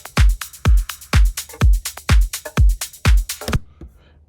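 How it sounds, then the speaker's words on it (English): A house music drum loop from a track's first drop plays alone: a punchy four-on-the-floor kick with crisp hats and snappy percussion, seven evenly spaced loud hits before cutting off into a short tail. "So our drums from our first drop sounded like this."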